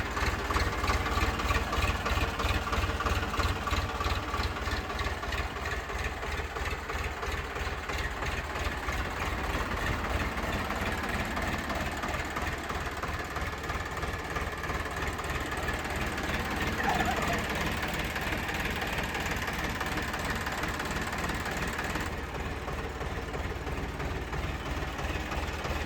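A 2021 Ace DI 450 tractor engine idles nearby with a steady, evenly pulsing diesel thrum that holds at a constant level throughout.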